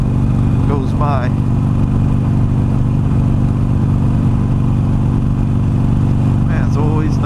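A Harley-Davidson Sportster Iron 883 (XL883N) cruises steadily with a loud, constant engine drone and wind rush, while a rider talks over it.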